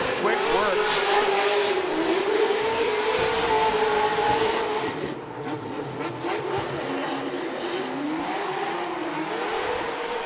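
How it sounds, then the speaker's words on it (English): A loud, roaring supercharged V8 engine revs and wails with rising and falling pitch, tires squealing as the car drifts in a pro drifting competition, then the roar eases slightly. "Just listen to the symphony of the V8 supercharged."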